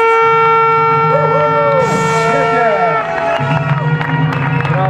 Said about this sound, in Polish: Są i fanfary!